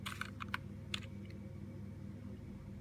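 Several quick taps on a point-of-sale terminal keyboard enter an order code, a short burst of light clicks in the first second over a low steady background hum, then quiet.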